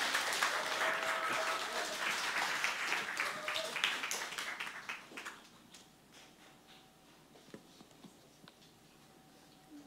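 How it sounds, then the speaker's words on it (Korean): A church congregation bursts into loud applause to welcome a missionary onto the stage. The dense clapping gradually thins into scattered individual claps before fading into near silence. "우리 선교사님 나오실 때, 우리 큰 박수로 환영하도록 하겠습니다"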